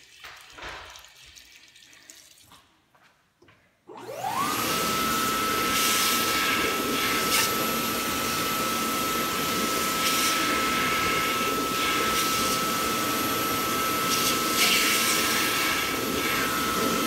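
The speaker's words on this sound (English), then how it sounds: "The regular Dyson Airblade. But it's called the AB04 though." A Dyson Airblade AB04 hand dryer switches on after a few seconds of near quiet and runs with a loud, steady high-pitched jet-like whoosh for the rest of the stretch, close by and alone.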